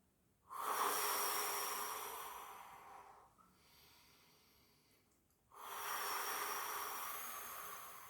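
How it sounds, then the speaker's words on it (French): Deep, slow breaths during a voice warm-up exercise: a long airy exhale, a quieter inhale, then another strong exhale, close and breathy with no talking. "pour souffler et pour inspirer"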